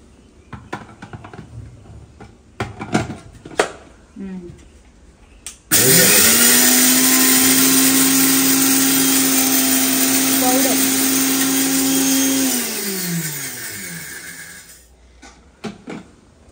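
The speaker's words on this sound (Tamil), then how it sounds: "சிறுபருப்பு மட்டும் ஒரு 2 ஓட்டு ஓட்டிடுமா, அதுக்கப்புறமா தேங்காய் போட்டு அரைச்சிக்கலாம்." A mixer grinder whirs loudly as it grinds moong dal, starting abruptly after some kitchen clatter, running steady for several seconds, then winding down and stopping.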